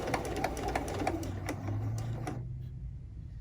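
A sewing machine slowly stitches a quilt binding, its needle ticking in a steady rapid rhythm with a low motor hum, close and moderately quiet, then stopping abruptly near the end.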